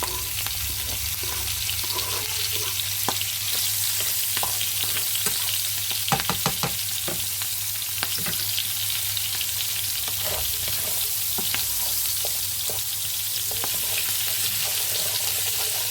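Toulouse sausages and shallots fry together in a pan with a steady broadband sizzle and occasional crackles and pops throughout, a low hum beneath and no talking.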